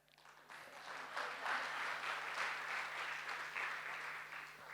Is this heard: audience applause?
yes